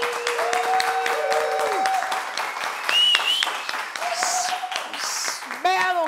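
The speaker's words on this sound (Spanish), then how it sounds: "¡Fuerte el aplauso!" Studio audience applauding on a Spanish-language variety show, a dense wash of clapping mixed with tonal music or voices sliding over it, steady and loud throughout.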